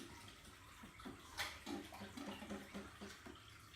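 Water is siphoned through a tube from a fish tank into a bucket, giving a faint, uneven gurgling trickle with small splashes over a low steady flow.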